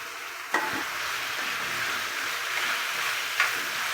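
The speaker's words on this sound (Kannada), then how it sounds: "ಮಸಾಲೆ ಹಸಿ ಸ್ಮೆಲ್ ಹೋಗೋದಂತ ಹುರ್ಕೊಳ್ಬೇಕು" Masala frying and being stirred in a pan while making rava upma with avarekalu, a steady hissing sizzle with two sharper scraping knocks from stirring.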